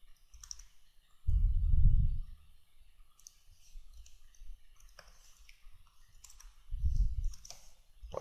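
A computer mouse gives a few sparse, sharp clicks at a desk while Photoshop is in use, close and quiet. Two low muffled thumps break up the near silence between them.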